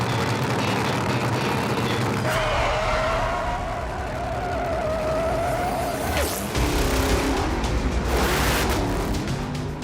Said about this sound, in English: Setting for the largest drag race series in the US.